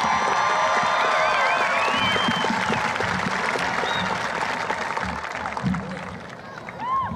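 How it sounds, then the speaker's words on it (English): Crowd noise from a high school graduation audience, with a broad wash of cheering, whoops and clapping at steady loudness that thins slightly toward the end. "So if you would please save your applause until all graduates have been recognized"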